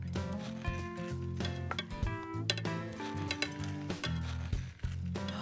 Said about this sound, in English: All this is going right back in the pan.